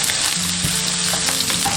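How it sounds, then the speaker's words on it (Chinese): Scallion, ginger and garlic hit hot oil in a wok, giving a brief, dense sizzling crackle with light stirring. "锅中倒少许食用油，下入葱姜蒜炒香"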